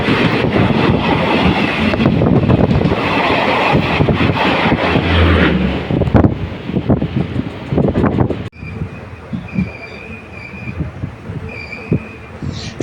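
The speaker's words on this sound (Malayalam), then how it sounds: "യശ്വന്ത്പൂർ കൊച്ചുവേളി ഗരീബ്രത് എക്സ്പ്രസ് ആണ് ക്രോസ് ചെയ്ത് പോകുന്നത്" The Yesvantpur-Kochuveli Garib Rath Express passes alongside, a loud continuous rumble and rush of wind heard from a moving train, dropping abruptly to quieter rolling rail clatter with faint wheel squeal.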